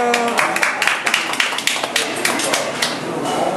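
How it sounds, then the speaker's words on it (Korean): A small group claps for a birthday celebration, uneven close hand claps with voices talking and calling out over them. "박수."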